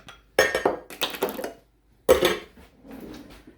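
Freshly made jasmine rice is spooned into a bowl, with clinking utensil-on-bowl knocks and scraping in two close bursts separated by a brief pause.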